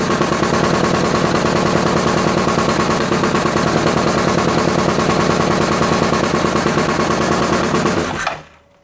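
Rebuilt ATV engine running loud and rough with a steady rapid firing chatter, running rich and spitting fuel from the exhaust, close up for about eight seconds before cutting off abruptly.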